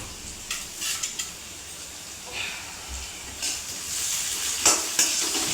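Tomatoes frying in a pan with salt, a steady close sizzle with scattered clinks and stirring scrapes of utensil against the pan.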